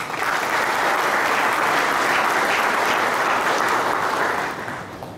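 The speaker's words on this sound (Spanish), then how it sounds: "pedimos un fuerte aplauso" Audience at the launch event of a cooperative's green bag program bursts into a dense, sustained round of applause that fills the room evenly, then tapers slightly at the end.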